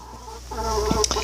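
Backyard chickens cluck softly and close by, a few short throaty calls rising into a brief burst of louder clucks, with no one talking.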